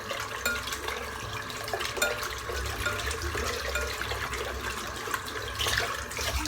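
Water splashes and runs steadily while shaving soap is rinsed off a freshly shaved head, a close, continuous wash of liquid with small drips and no talking.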